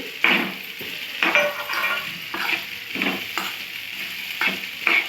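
Okra sizzling as it fries in a pan, stirred in repeated scraping strokes about once a second over a steady close sizzle, with no talk.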